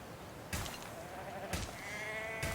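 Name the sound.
sheep bleating at sheep farm in video game Anno 1800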